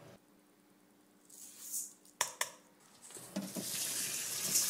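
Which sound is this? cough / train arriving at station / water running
water running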